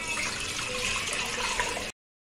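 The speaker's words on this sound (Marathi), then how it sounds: "पाणी कुकरमध्ये टाकणार आहे" Water from a jug pours into a pressure cooker sitting on a gas stove, a steady close rushing splash lasting about two seconds before stopping abruptly, with no talk.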